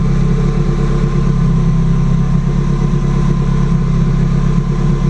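A Subaru GC8 with its engine warmed up after a cold start on E85 fuel idles steadily up close, a constant low rumble with no speech.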